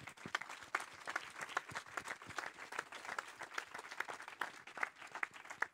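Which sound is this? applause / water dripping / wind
applause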